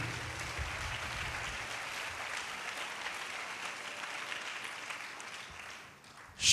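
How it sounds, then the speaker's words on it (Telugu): A church congregation claps steadily in praise during a Telugu sermon, a dense, even wash of applause filling the room at steady loudness and fading slightly near the end before a sharp bump. "చప్పట్లు కొడుతూ దేవుని మహిమపరుద్దాం."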